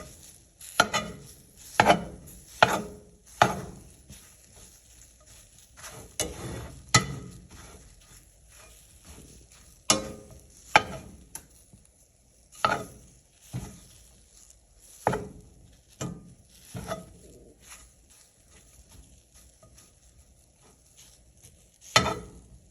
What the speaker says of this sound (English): so just keep cutting through it, keep mixing it around